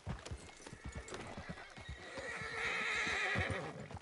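Horse hooves clip-clop at a steady galloping rhythm in Red Dead Redemption 2, with a loud whinny rising toward the end and rhythmic low thuds throughout.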